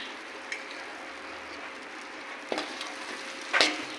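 Ingredients frying in oil for a restaurant-style paneer butter masala, a soft continuous sizzle broken by a few sharp stirring scrapes and clicks, the last one loudest.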